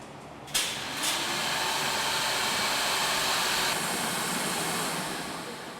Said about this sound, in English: it's moved to a vacuum machine that will suck out any remaining moisture